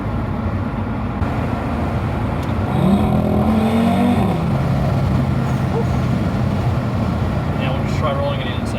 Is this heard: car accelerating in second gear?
yes